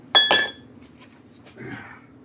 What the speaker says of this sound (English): get some ice cubes, because I like an old fashioned on ice